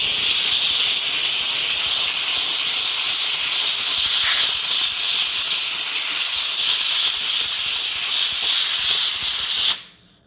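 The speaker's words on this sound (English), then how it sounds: "So we're going to go ahead and try and clean that up with the steamer." Wagner on-demand steam cleaner hisses steadily and loudly as it cleans grease, a continuous close jet of steam with no talk, cutting off abruptly at the end.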